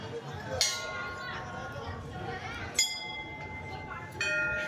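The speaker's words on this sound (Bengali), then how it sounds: "আর এখানে আমরা মন্দিরের ভিতরে ঘন্টাও বাজিয়ে নিলাম।" Bells inside a temple during Saraswati Puja are struck a few times, bright ringing clangs spaced a couple of seconds apart that linger and decay, fairly faint against a murmur of crowd voices.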